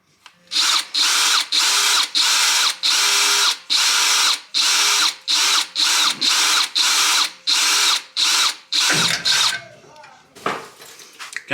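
A power drill bores through metal while installing wheel lights on a Chevy Silverado, about a dozen loud, evenly spaced whining bursts, then a couple of clunks and rustles as it stops.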